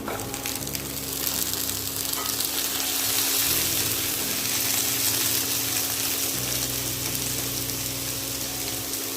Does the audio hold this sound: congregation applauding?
no